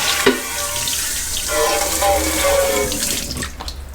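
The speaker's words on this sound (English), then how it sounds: "rinse it out." Water from a kitchen tap runs steadily into a sink while a part of a Berkey water filter is rinsed under it, splashing and gurgling close by for several seconds.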